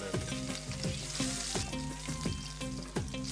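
Green chillies and curry leaves frying in hot oil, a loud steady sizzle punctuated by regular clicking taps of a stirring utensil against the pan.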